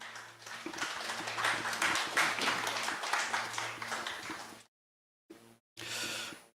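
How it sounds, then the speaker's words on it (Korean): Audience applause welcoming a lecturer on Silla history to the stage at a Korean talk, a dense steady round of clapping that stops abruptly, followed by two brief bursts after a pause. "큰 박수로 맞이해 주시기 바랍니다"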